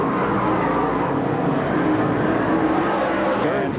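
Race cars roar around Tulsa Speedway in 1990, a dense continuous engine drone from several cars battling in traffic, loud and steady, with commentators talking over it.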